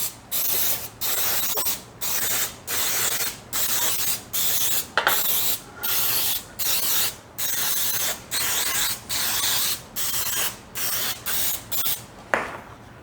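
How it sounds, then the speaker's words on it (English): Repeated short bursts of cooking spray coating a muffin tin, about a dozen hissing sprays in a steady rhythm, close and moderately loud. "I'm just going to spray each one of these really well"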